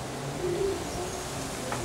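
A male racing pigeon in heat calls with a soft, low cooing note at an outdoor pigeon-racing event, faint over a steady broad background hiss.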